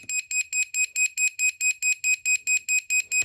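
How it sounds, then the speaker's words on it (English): Mr. Pen pen-style voltage tester held against a live wall plug, beeping in a steady rapid series of about fourteen shrill, evenly spaced electronic pulses, loud and close, with no talking. "And it's beeping because it's live."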